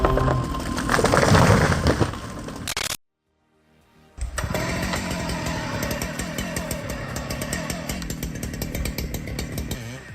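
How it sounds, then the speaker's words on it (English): A big chainsaw roars loud and close while cutting large tree logs, its engine revving in a continuous buzzing drone, cutting out briefly for about a second before roaring back up and running steadily. "Feel the raw power as the chainsaw effortlessly cuts through towering logs. The roar of the engine mixed with the crunch of splintering wood."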